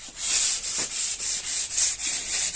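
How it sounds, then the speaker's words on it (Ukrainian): Sandpaper rubbed by hand over the door openings of an old BMW being prepared for paint, a steady near scraping in regular back-and-forth strokes of about a third of a second each, with no talk. "Зараз будемо терти пройоми над наждачкою."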